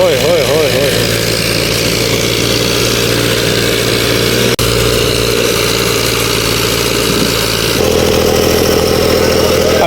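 A tractor stuck on a difficult path strains its engine with a loud, continuous, rough drone that shifts in pitch as the load changes. People talk and shout over it close by.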